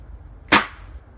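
A single sharp gunshot fired at a television, one loud close crack with a quick decay and no talk around it.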